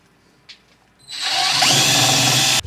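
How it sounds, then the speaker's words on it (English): A power drill spins up and bores a pilot hole in a steel L-bracket mounted on a 1974 Volvo 164E, after a faint click, a loud whine for about one and a half seconds, then stops abruptly. "Just drilling a little pilot hole there."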